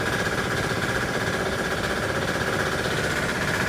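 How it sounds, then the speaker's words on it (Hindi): A 3 HP double-piston air compressor driven by a 5.5 HP diesel engine with a 300-pound tank runs steadily at close range, a loud, dense mechanical chugging and knocking with no pauses and no voices. "3 HP double piston air compressor"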